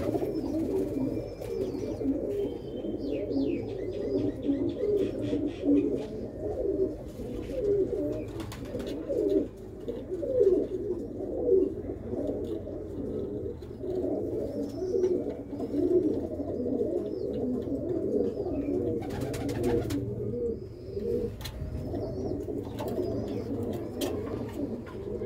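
Pigeons coo steadily in a loft, a dense, close chorus of low rolling calls that continues throughout, with a few brief sharper knocks and rustles in between.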